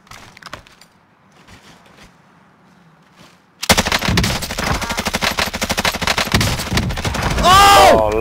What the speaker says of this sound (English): playing back the Bruen again, it is just such a beast of a gun